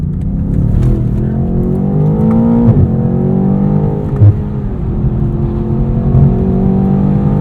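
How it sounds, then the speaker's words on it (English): A 2020 BMW M8 Competition roars under hard acceleration, its engine droning loud and close with shifting tones and a couple of brief exhaust pops and bangs breaking through, no voices present. "There's a little pop and bang."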